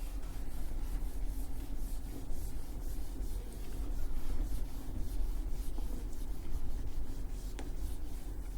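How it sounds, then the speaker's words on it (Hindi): Steady scrubbing of writing being rubbed off a board, a continuous dry rasping swish with repeated strokes, close and moderately loud, no voices. "मैं इसको रब कर रहा हूँ"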